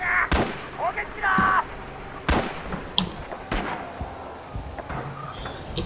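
Artillery fire in the shooter Rising Storm: several sharp, separate booms and cracks spaced about a second apart, moderately loud, with brief background voices and game noise between the hits.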